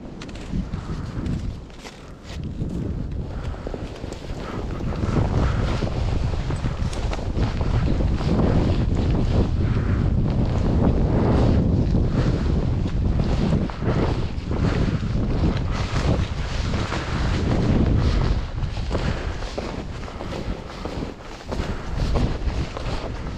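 Strong wind roars over the exposed mountain ridge of Franconia Ridge on the Appalachian Trail, buffeting the microphone in loud, rumbling gusts that swell and ease continuously, with no talking.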